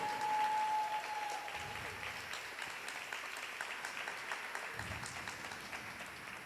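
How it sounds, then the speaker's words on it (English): Applause from an audience at a museum honoring ceremony, steady moderate clapping continuing at a distance with faint voices underneath. "you can go ahead and clap for that."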